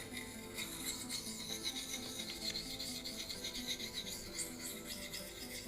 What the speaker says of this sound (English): So I'm going to attempt to sharpen this facing away.